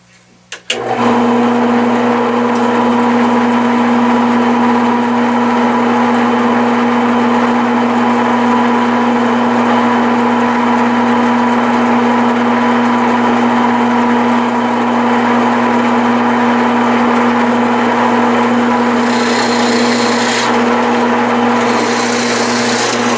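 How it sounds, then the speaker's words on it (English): A drill press motor starts abruptly and runs at a steady high whine for the whole stretch, loud and close, with a brief grinding change near the end as it drills into a wood block. "So I've got my drill press set just deep enough to"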